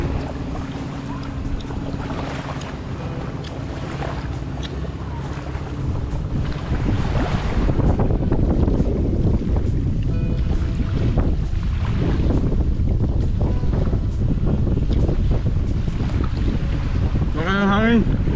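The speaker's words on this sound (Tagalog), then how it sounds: "Hangin." Strong wind buffets the microphone on a boat out at sea off Burias Island, a steady loud roar with gusts building midway, the low rumble of a motor beneath and a brief voice near the end.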